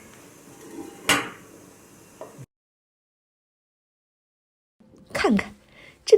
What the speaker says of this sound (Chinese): 用一个盘子倒扣出面包